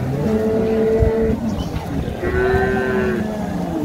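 At the Ambari cattle market in Dinajpur, where dairy cows and calves, including red and Friesian-cross cows, are sold, a cow gives two long, close moos over steady market background noise.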